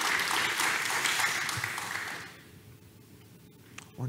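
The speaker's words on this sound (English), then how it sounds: "And also, give it up for Darcy and Sarah." Audience applauding speakers leaving the stage at a live event: dense, enthusiastic clapping from a crowd that fades out after a couple of seconds, with a brief sound close by at the very end.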